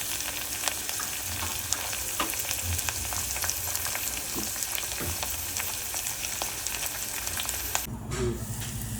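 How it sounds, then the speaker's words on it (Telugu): Onions, finely chopped tomatoes and carrot fry together in a pan for egg fried rice, with a continuous dense sizzle and crackle. Light stirring clicks come through, and near the end a brief louder shuffle is heard. "తర్వాత సన్నగా తరిగిన టమాటా అండి. ఇవన్నీ కూడా దోరగా వేగాలి."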